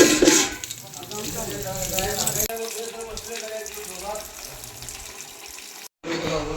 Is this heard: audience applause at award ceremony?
no